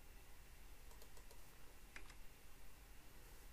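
Quiet clicking of keys on a computer keyboard, a short burst of a few taps under a steady room hiss.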